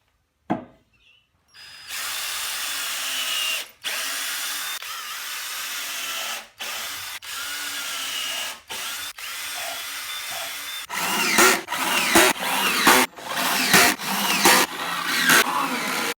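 A power drill drills pilot holes in a wooden tool-stand frame, whirring in several short bursts with brief pauses between; the later bursts are louder and rougher.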